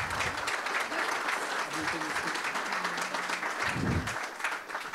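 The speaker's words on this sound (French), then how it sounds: "Je pense qu'on peut vous applaudir" Applause from an audience at a BIM tour event in Aix-en-Provence, steady crowd clapping with a few voices murmuring underneath.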